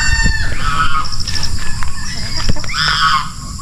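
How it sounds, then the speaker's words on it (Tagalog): Chickens and a rooster on a backyard farm in the early morning, with repeated loud crowing and clucking close by and a few brief voices in the background. "Yung ibang manok natin gumagala na."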